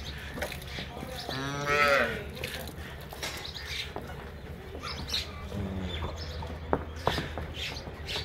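A cross-breed cow moos once at close range in a long, harmonic call, with bird chirps and a voice in the background on a Punjab farm.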